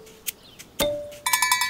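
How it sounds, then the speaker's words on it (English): A bright cartoon bell rings in a kids' learning show, a clear tone followed by a quick series of repeated chiming rings near the end, close and fairly loud among a few other short effects. "Oh, hey, Olette! That's the sound of your bell!"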